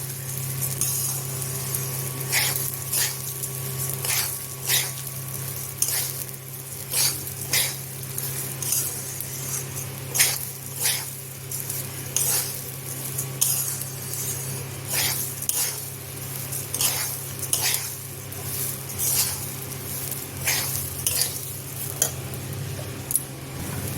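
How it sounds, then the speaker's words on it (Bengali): Rice frying in a pan over a high gas flame, giving a steady close sizzle with frequent scraping stirs and light metallic clinks of a spoon against the pan throughout. "চালটা দিয়ে ভালো করে ভাজবো। গ্যাসের ফ্লেম পুরো হাইতে থাকবে।"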